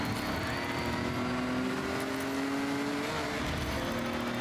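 A car engine in Forza Horizon 6 holds a steady, loud, close drone throughout while driving, its pitch rising slightly as it revs, with faint tire noise and no talking.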